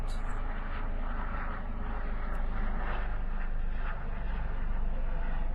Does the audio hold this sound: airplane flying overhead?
yes